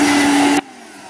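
Shark mini vacuum cleaner running with a loud steady whine and airy rush, cutting off abruptly after about half a second to leave quiet room tone.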